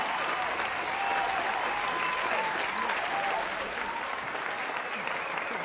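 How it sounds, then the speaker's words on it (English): A crowd breaks into loud, sustained applause for a performer, a dense continuous wash of clapping with a few cheers mixed in. "Round of applause for Icebreaker."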